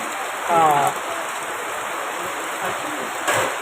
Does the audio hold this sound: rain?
yes